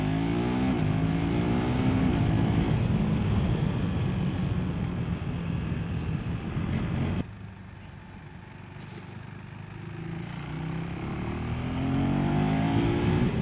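A KTM Adventure 390 R motorcycle engine runs steadily while riding a twisting mountain road with hairpin bends, with a continuous loud drone whose pitch rises in sweeps under acceleration, dips sharply midway, then builds again.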